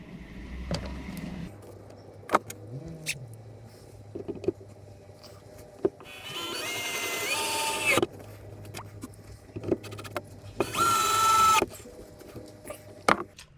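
Screws driven into a clamped headliner shelf inside a Mercedes Sprinter van conversion, with two sustained bursts of whirring drill noise separated by scattered clicks and knocks, fairly close.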